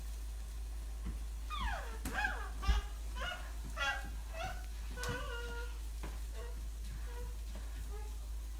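A 2-year-old child makes a series of high, wavering meows, imitating a cat, with brief bursts close by and some quiet background noise.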